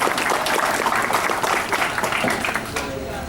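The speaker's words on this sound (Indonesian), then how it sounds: "Tepuk tangan untuk Sumeneb." Audience applause in a hall during a speech by regent candidates about Sumenep regency, dense steady clapping filling the short stretch, loud and close, with voices mixed in.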